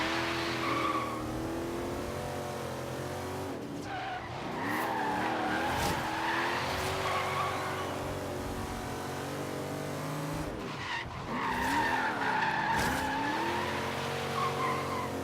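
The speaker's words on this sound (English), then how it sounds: "As you can see, I am drifting it around the tunes" Car in the racing game Forza Horizon 3 drifting with a turbo engine, a continuous engine drone with rising and falling revs under long sweeping tire squeals that come in two drawn-out skid passes.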